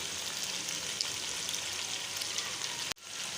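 Tomatoes with kasuri methi frying in a pan give a steady, even sizzle with a soft crackle throughout, cut by a sudden brief drop near the end before the sizzle resumes.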